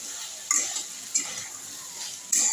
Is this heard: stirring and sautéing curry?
yes